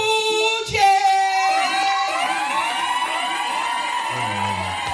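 Crowd noise at a movie premiere night as the host introduces a guest, with a sustained wash of cheering and whooping under loud, tonal sound that fills the room, fairly close and continuous.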